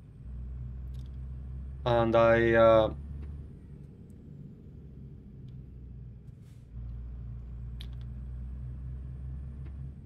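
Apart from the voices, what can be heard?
truck and highway traffic in a heavy-haul driving video game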